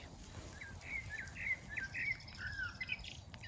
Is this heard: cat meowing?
no